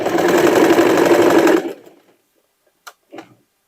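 Stitching a patch onto a dress, a sewing machine whirs loud and close in one steady burst for about a second and a half, then stops, followed by two faint clicks of handling.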